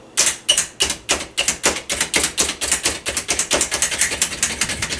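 A hand-operated manual chopper dicing white and red onions makes a rapid series of sharp, close clacking strikes that speed up into a steady ratcheting rhythm, with no voices.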